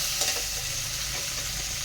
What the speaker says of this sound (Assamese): ভালকৈ ভাজি লো।